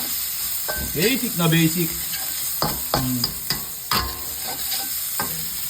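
Bacon stir-fried in a pan with vegetables, a steady sizzle with repeated scraping and clacking of a utensil, under someone speaking.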